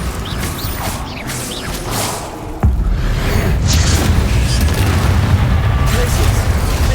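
Bombarda blasting spell erupting in Hogwarts Legacy combat, a sudden booming impact partway through amid a busy rumbling game soundscape, with a voice calling out spells.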